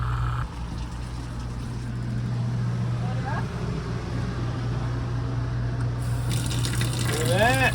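A camper's water pump running as water gushes steadily from the tap into a sink, a low constant hum beneath the flow, with people talking in the background.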